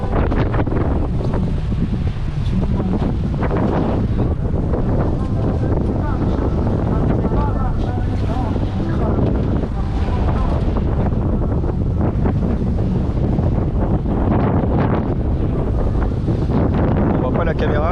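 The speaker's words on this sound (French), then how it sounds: "C'est la tempête à bord." Storm aboard a sailboat at sea on an Atlantic crossing toward the Azores, with loud, continuous wind buffeting the microphone and waves rushing and slapping around the hull.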